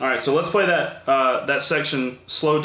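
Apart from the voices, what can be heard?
None of the usual background noises is heard.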